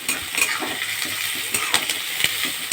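Pieces of mutton fry over high flame in a pan, with a continuous crackling sizzle broken by scrapes and clinks of a spatula stirring against the metal.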